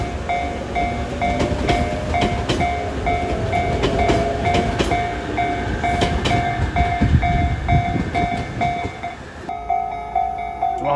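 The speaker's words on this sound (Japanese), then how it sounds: "中央林間行きの急行列車も来ましたね。" A Tobu Railway express train runs past a level crossing, a loud steady rumble with rhythmic wheel clatter while the crossing bell rings repeatedly throughout, the train noise cutting off near the end.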